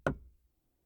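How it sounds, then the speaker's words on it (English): One dull knock sounds at a street door, short and close, fading quickly into silence. "there came a knocking at the street door"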